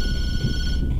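A telephone rings in the horror video game TattleTail, a bright electronic tone sustained for about a second against a low rumbling background, cutting off near the end.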